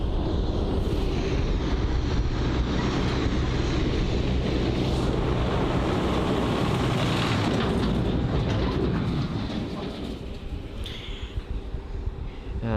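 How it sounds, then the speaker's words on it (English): An EasyJet Airbus A320neo jet at Bristol Airport roars steadily and loudly close by, a broad continuous rumble with wind buffeting that eases toward the end. "just picking up now is an EasyJet A320neo registered Golf Uniform Zulu Lima Delta, and that is this jet right here"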